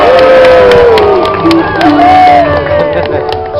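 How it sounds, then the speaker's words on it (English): A large crowd cheering and shouting in a dense, continuous roar of overlapping voices, loud and close, with whoops rising over it throughout. "and how the crowds would cheer."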